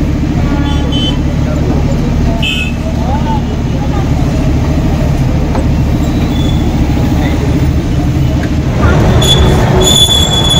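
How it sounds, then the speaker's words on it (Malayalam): The Mangala Lakshadweep train stands at Nizamuddin railway station in Delhi, giving a loud, continuous rumble with occasional wheel squeals and distant toots, while voices talk over it. "കേരളത്തിലെ നമ്മുടെ എറണാകുളത്ത് നിന്ന് ദിവസവും ഒരു ട്രെയിനുണ്ട്, മംഗള ലക്ഷദ്വീപ്"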